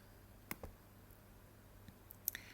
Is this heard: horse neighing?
no